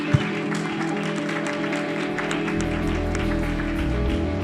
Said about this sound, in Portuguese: Vocês podem dar uma salva de palmas então, para os nossos entrevistados dessa noite.